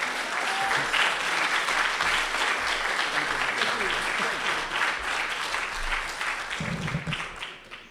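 A reception audience applauds steadily to welcome Congressman Bobby Scott, a dense wash of clapping that fades out near the end.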